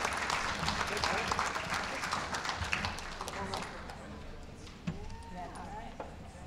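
Audience clapping for scholarship award students at a chamber of commerce ceremony, a dense patter of many hands that gradually thins out, with voices and cheers mixed in underneath.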